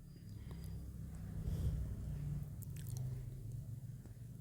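A hand mixes litti filling with a little water, making faint, wet squishing and pressing sounds that are soft and continuous, with no talking.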